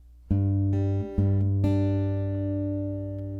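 Four crisp plucks on an acoustic guitar form an intro measure of a song, notes ringing and overlapping close up, the last one left to decay on its own.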